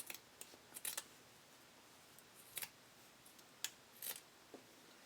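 Scissors snip fabric seam allowance in short, crisp cuts, several irregular bursts close to the mic over a quiet background.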